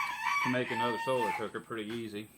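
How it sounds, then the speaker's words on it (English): A chicken crows nearby in a series of harmonic calls over about two seconds while someone talks at the same time. "That noise you just heard was a chicken up there"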